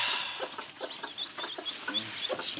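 Newly hatching Tiger-type chicks from a hatch under a desi hen, peeping and cheeping continuously at close range in a steady busy chatter with many overlapping high calls.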